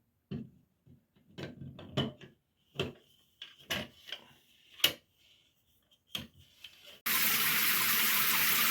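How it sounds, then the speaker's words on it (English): A shower head and hand shower spray together at once, a steady loud hiss of water bursting on after a run of knocks and clatters from fitting work on a shower faucet valve. "Both the hand shower and the shower head spray at the same time."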